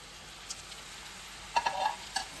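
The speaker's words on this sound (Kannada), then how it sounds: "ಇಷ್ಟನ್ನು ಎಣ್ಣೆಯಲ್ಲಿ ಫ್ರೈ ಮಾಡ್ಕೊಳ್ಳಿ." Cashews, garlic, a bay leaf, cloves and cinnamon fry in oil, with a quiet sizzle and a few brief crackles and spatters, faint and close, and no talking.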